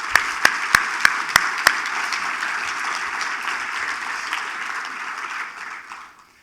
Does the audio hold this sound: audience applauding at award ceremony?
yes